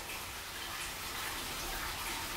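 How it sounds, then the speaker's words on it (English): Water runs steadily in the basement of an abandoned house, a continuous broad rushing hiss with no breaks, fairly loud and close, with no voices. "in the summer the water was running in the basement"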